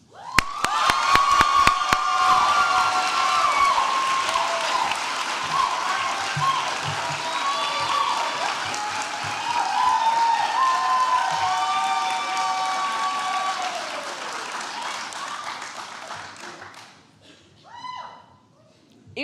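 A crowd at a 2023 midyear completion celebration applauds warmly as a speaker named Katie is welcomed, with sustained clapping and scattered whoops and cheers. The applause fades out toward the end.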